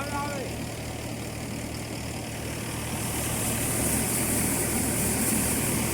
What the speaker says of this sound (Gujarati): ટ્રેક્ટર જેવો નોર્મલ વાઇબ્રેશન છે